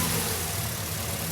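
A turbocharged Toyota Hilux engine idles just after its first start, a loud, steady, close mechanical rumble with a continuous low drone throughout.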